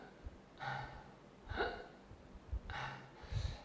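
A freediver breathes in with short sharp inhales that each cut off abruptly as the glottis closes, three or four quiet, close gasps separated by brief pauses.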